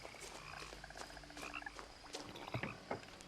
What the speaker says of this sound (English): There's a lot of frogs, actually.